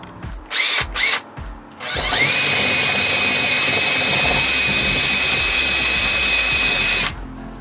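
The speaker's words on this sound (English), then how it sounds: "pre-drill the middle hole behind there to match the size of this hole right here" A power drill bores a pilot hole in the body of a 2022 Ford Transit medium-roof crew van, running in two short bursts and then one long, steady, loud whine up close.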